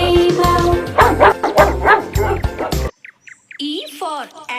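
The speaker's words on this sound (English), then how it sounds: "D for dog." Dog barking in a children's phonics song, a run of loud sharp barks in quick succession, followed by brief chirping bird calls.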